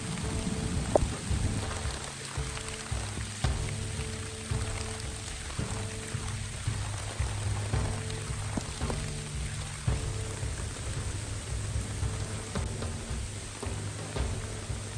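Steady rain pours down in a forest during a jungle survival trip, with a dense, continuous hiss of drops hitting leaves and a tarp flysheet, close and even throughout with no voices.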